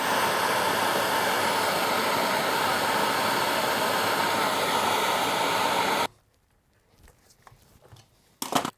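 A heat gun blows steadily at seized screws on a Ryobi leaf blower, a continuous loud hiss and roar for about six seconds before it cuts off, followed by faint clicks and handling noises.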